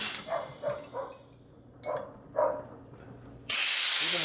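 A dog gives a series of short barks at uneven intervals, moderately close, before a loud burst of hissing air from a homemade 750 psi pneumatic can crusher cuts in at the end.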